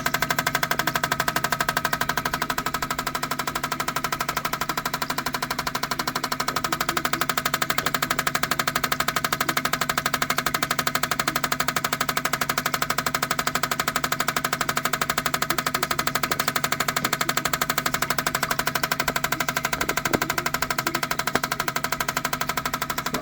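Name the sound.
van engine idling during idle test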